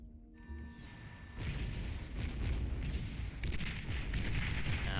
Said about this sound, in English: here goes the bombers